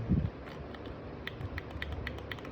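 Scroll wheel of a Logitech M171 wireless mouse being turned, a faint series of small rapid ticking clicks, close and quiet over a low background hum.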